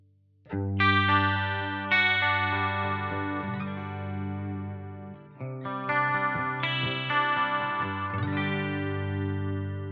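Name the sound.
electric guitar clean tone with modulation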